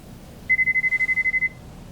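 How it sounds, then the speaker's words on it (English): A phone rings in the video game Lost Judgment with a rapid electronic trill of about a dozen evenly pulsed beeps, lasting about a second, loud and alone over a low background hum. "That'll be someone ringing the phone."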